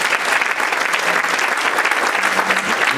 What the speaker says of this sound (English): I think we should all give a round of applause to everyone